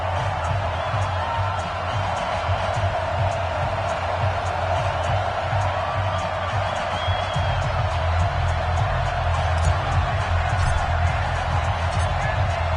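Stadium crowd noise in an EA Sports NFL game between the Chicago Bears and Houston Texans, a steady dense roar of cheering under constant commentary talk, with low rumbling throughout.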